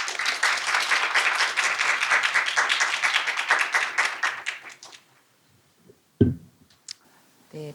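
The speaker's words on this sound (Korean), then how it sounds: "박수로 맞이하겠습니다." Lecture-hall applause at a Seoul National University public architecture lecture greets the speaker, steady and fairly full for about five seconds before thinning out to silence, followed by a single thump and faint handling noise.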